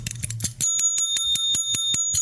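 A bicycle-style bell is rung in a quick rhythmic solo, a dozen or so sharp bright dings in a lively pattern, close and loud with no talking.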